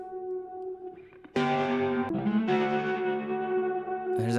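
Synth or instrument tones pass through a Chroma Console effects pedal, giving sustained distorted, chorus-tinged notes with echo and reverb in a short beat-making passage.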